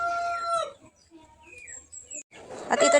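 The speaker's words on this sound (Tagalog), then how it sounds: "ang ingay talaga ng mga manok" Chickens cluck and squawk nearby in short bursts, with a quiet pause in the middle and a louder, noisier flurry at the end.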